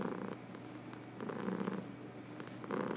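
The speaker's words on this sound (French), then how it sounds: "un chat qui ronronne comme une tronçonneuse" A cat purring loudly like a chainsaw, a steady low rumble with rhythmic swells on each breath, close and alone with no talking.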